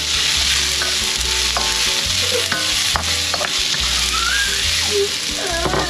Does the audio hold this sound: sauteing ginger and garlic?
yes